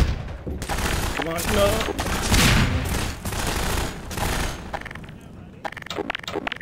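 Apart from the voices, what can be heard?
gunfire in Half-Life 2: Lost Coast video game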